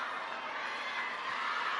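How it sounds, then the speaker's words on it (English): Table tennis crowd at a World Cup match in Macao lets out a sustained low groan after a missed backhand, a steady broad murmur of many voices at moderate level. "Massive groans from the crowd"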